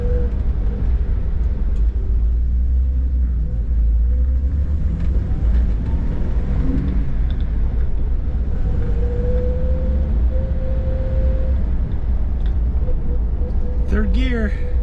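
A 36-year-old Toyota Land Cruiser 60 Series drives along in third gear with its heater running, giving a steady low engine rumble and road drone throughout, with a voice speaking over it.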